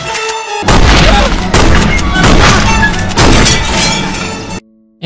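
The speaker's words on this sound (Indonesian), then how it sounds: "Ia pun kemudian mengambil senapan dan menembaki kedua tikus itu." Shotgun blasts fired by an old woman at two rats inside her house in the animated film Ratatouille: loud, dense booming and crashing bursts run for several seconds, then cut off abruptly into near silence.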